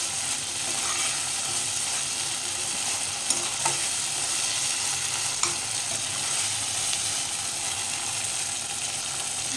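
Ginger frying in a pan, a loud steady sizzle lasting throughout with occasional faint clicks of a utensil, no voices.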